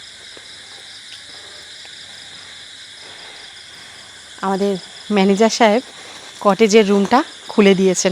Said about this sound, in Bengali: ঝিঝি পোকার ডাক, ব্যাঙের ডাক সব শোনা যাচ্ছে।